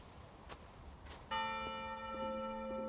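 A church bell rings out once in the video game Maquette, a sharp strike at about the middle that hangs on in a long, steady, shimmering decay. Faint ambient rustle comes before it.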